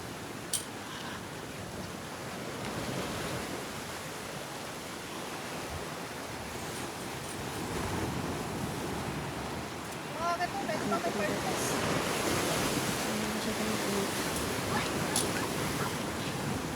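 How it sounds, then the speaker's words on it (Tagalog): Loud, steady roar of heavy ocean surf on the coast at Dasol, Pangasinan, fills the whole stretch, a dense wash of crashing water with wind, swelling slightly louder toward the end. "Sobrang lakas ng alon."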